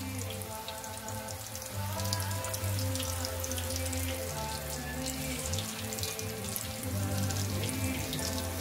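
Chicken pieces for Chicken 65 sizzle steadily in hot frying oil, a dense crackling hiss that runs on without pause over soft background music, with no one speaking.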